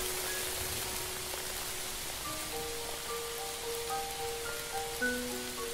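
Heavy rain pours through a forest as an even, continuous hiss of falling water, steady and enveloping, with faint high tones drifting over it.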